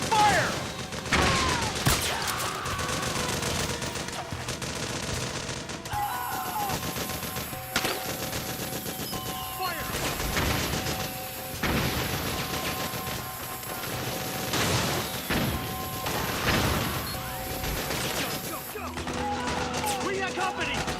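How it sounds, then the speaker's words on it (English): Sustained suppressing gunfire in Metal Gear Solid 4, with rapid automatic bursts and single shots cracking nearby over a constant din, backed by tense game music and occasional shouted voices. "Suppressing fire! Suppressing fire!"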